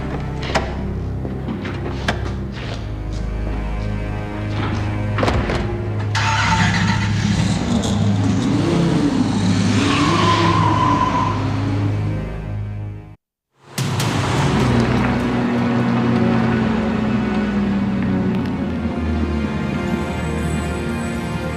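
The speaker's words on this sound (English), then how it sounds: "Get in the car and drive." A car drives off and accelerates, engine revving and rising in pitch over steady road rumble, with a brief cut to silence midway before the engine noise resumes at a higher, steadier drone.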